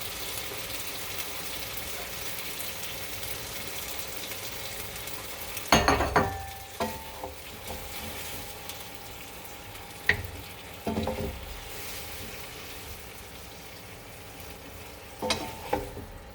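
Shoyu shrimp and vegetables stir-fry in a pan, giving a steady close sizzle with scraping stirs and a few sharp clinks of a utensil against the metal, and no talking.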